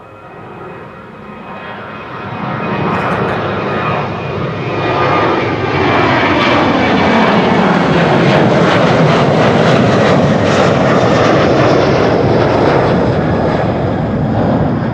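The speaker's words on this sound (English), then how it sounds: "this is KLM Flight 1219, I think, to Stockholm" A KLM Boeing 737-800 jet bound for Stockholm roars past at Amsterdam Schiphol Airport, its engine noise building from a moderate rumble into a loud, sustained broadband roar that holds steady through the pass.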